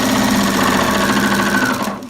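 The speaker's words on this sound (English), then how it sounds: "we'll keep stitching that together" A sewing machine runs fast and close, stitching quilting-cotton half-hexie pieces together with an even mechanical chatter for about two seconds before it stops.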